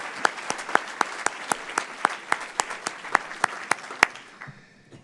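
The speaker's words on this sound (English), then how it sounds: "So another round of applause for all of you who've helped to make that true." Audience applause after a remark at a Columbus Metropolitan Club talk by Ohio State University's president, heard as a fairly sparse round of individual claps that thins out and fades away near the end, with no talk over it.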